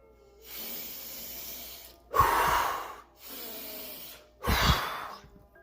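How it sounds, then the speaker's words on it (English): Deliberate breath-work technique for a pump: four strong breaths alternate, two softer airy ones followed by two louder, sharper gusts, each lasting about a second with short pauses between, close and without speech. "a really quick breath technique for that pump, just basic breath work here"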